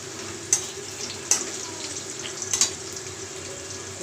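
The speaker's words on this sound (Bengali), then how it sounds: "এবার আমি একটা তেজপাতা দিয়ে দিলাম, ওই তেজপাতাটার সঙ্গে ভেজে নেব।" A soft, steady sizzle of a bay leaf frying in hot oil, broken by a few light clicks and taps.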